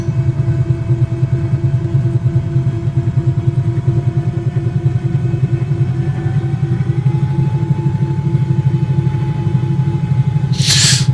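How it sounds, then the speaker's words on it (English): Twin engines of a Cowansim 222B aircraft in Microsoft Flight Simulator run at a steady, loud drone with a deep hum and a slowly rising tone as they spool up, ending in a brief burst of hiss. "Let's wind the engines up again."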